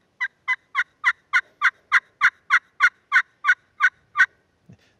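Friction turkey call, pot or slate style, played with a striker: thirteen evenly spaced yelping notes in a steady rhythm, loud and close, with one faint short note after them.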